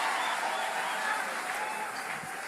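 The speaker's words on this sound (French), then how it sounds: "tu acclames très fort le Seigneur" A church congregation applauds and cheers loudly in praise, a dense, steady wash of clapping and crowd noise that fills the whole moment without pause.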